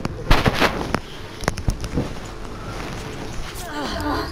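Gunfire in the video game Ghost Recon Wildlands cracks sharply several times over a noisy, busy game soundscape, with players talking over it.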